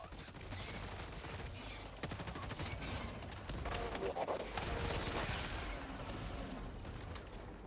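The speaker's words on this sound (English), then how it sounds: "I want to try the heavy machine gun though." Heavy machine gun fire in a video game, a steady rapid stream of faint, dense shots lasting the whole stretch with no pauses.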